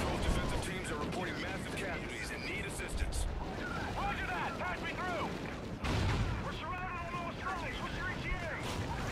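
Explosions and gunfire boom through a Call of Duty: Ghosts battle on the Wii U, heavy blasts rumbling under a man's near-constant talking.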